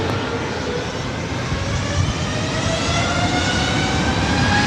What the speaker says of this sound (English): Next arrival is Delta Airlines flight 685, 767-300ER coming in from JFK.